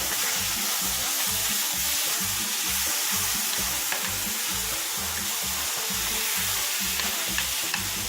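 Rice sautéing in a pan for Spanish rice gives a steady, loud sizzle with rhythmic stirring scrapes running throughout, no voices.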